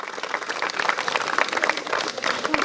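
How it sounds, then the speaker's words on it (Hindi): Sustained applause from a gathered audience at a community event near a temple in the Sillewani range, dense and steady clapping throughout with no voices standing out. "तालियां बजते रहनी चाहिए।"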